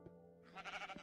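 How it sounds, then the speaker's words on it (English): A sheep in the Minecraft video game on Xbox 360 gives a faint, short bleat with a wavering tone, heard over a low steady background hum. "I get a killer sheep"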